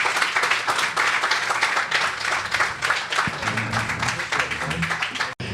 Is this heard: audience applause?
yes